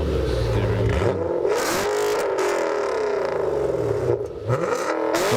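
A manual Audi RS4 B7 with its 4.2 V8 revs hard and loud, its deep engine note sweeping up and down through a drive-by with a brief dip in volume near the end.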